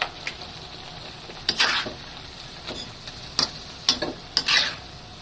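Vegetables being stirred with paste in a pan while they cook, giving scattered scraping and clinking strokes over a soft steady sizzle, close and moderately loud with no talking.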